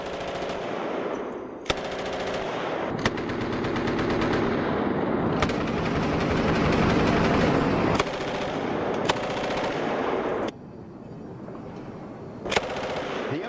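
M249 squad automatic weapon firing fully automatic in long, loud, close bursts of rapid gunfire, broken by a few brief pauses and sharp cracks, with no voices.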